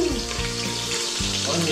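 Onion sizzles and fries steadily in a hot pan while vegetables cook, a close, continuous crackle with a faint thump of stirring.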